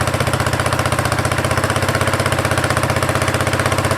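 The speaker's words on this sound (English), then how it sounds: "We're going to let it idle like this for a while and see if it tightens up." A 1975 Honda XL250 motorcycle engine, suspected of seizing, idles steadily with a loud, fast, even chugging pulse that never changes, close up and with no talking.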